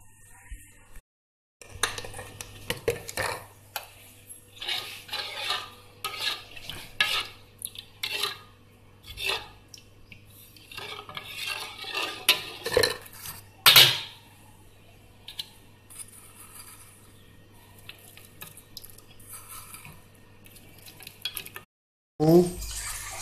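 Spices and salt stirred into boondi in a bowl for golgappa filling, soft scraping and clinking of a spoon against the dish in irregular bursts, with a sharp clatter partway through and no talk.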